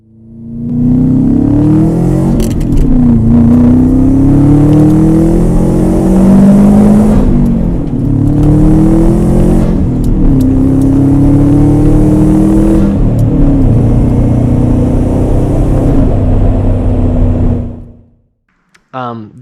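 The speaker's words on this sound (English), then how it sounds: "muffles your turbo when you're under boost and when the turbo's spooling up" A Nissan R32 Skyline engine with a custom HKS intake drones and rises in pitch as it accelerates repeatedly, turbo whine building between shifts, loud and close throughout.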